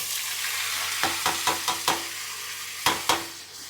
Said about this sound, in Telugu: కాకరకాయలు వేస్తున్నాయి ఇదే నూనెలో